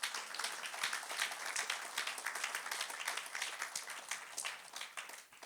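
A church congregation applauding loudly during an online worship service, dense steady clapping from many hands sustained throughout with no speech over it.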